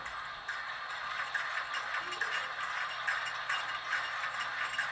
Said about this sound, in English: That's dumping the ashes